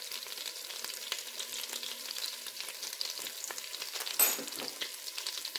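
Garlic and thyme fry in unsalted butter, making a soft, steady crackling sizzle with one slightly louder stir near the end.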